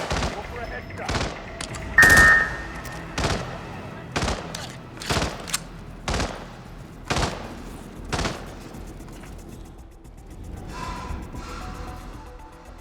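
Gunfire from the Hitman video game: about ten sharp, loud shots spaced irregularly around a second apart, each with a short echoing tail, over a low ambient bed.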